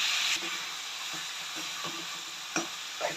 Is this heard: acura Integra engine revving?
no